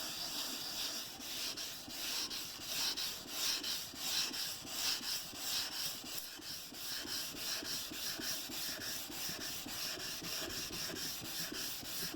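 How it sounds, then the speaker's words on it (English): Fine 400-grit sandpaper wrapped on a block rubbed by hand across a cast iron bandsaw table, a steady close scratchy rasp in continuous back-and-forth strokes with no talking. "I got a little bit of 400 grit fine sandpaper on a block. I'm gonna just run over a little area with that"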